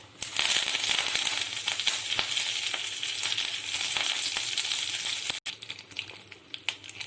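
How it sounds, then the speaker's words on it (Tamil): Curry leaves splutter in hot oil alongside fennel seeds and bay leaf, the start of a Tamil prawn gravy. A dense, steady crackling sizzle runs close and loud, then cuts briefly and returns with scattered pops. "கருவேப்பிலை பொரிஞ்சிருச்சு."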